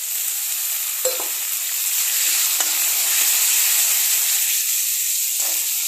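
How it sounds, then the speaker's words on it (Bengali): Ginger paste, potatoes and beans fry in oil while being stirred, a steady close sizzle and hiss with a few soft scraping stirs throughout. "সব কিছু মিশিয়ে এটাকে একটু ফ্রাই করবো"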